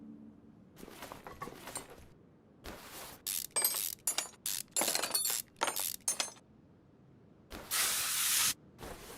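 Penetrating fluid is sprayed onto rusty parts in Car Mechanic Simulator 2021, a series of sharp hissing bursts of varying length, some rapid and one longer spray near the end, with clinks in between.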